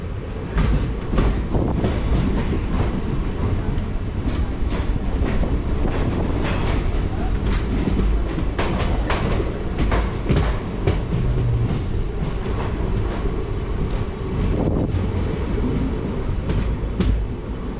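The 12745 Manuguru Superfast Express rumbles along near Jangaon station in India, heard from inside a coach as a loud continuous roar with rhythmic clickety-clack of wheels over rail joints throughout.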